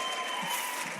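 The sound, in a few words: church congregation applause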